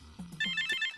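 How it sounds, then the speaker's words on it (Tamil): A cell phone rings with a bright, repeating electronic trill of rapid pulses, moderately loud, over a low background hum in a Tamil comedy scene. "ரிங்கு."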